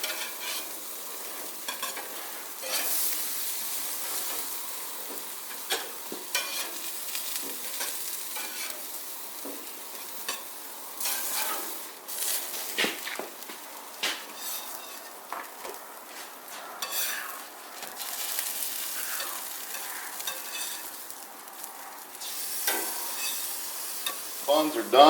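Burgers sizzling on a grill as a spatula scrapes and lifts them off, with steady frying hiss and occasional metal clinks close by, no voices.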